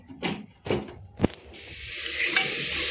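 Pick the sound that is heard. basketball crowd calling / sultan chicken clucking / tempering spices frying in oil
tempering spices frying in oil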